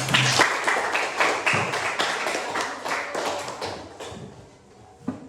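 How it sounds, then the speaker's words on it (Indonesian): Students clapping in a junior high school classroom, a dense burst of hand claps lasting several seconds before thinning out and fading, with one final isolated clap near the end. "tepuk tangan sekali lagi"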